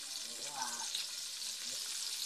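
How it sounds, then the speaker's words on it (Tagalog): Onion, garlic and tomato sauté in a pan for shrimp sinigang with a soft, faint sizzle, and a quiet voice is heard faintly in the background. "Pagigisa muna tayo."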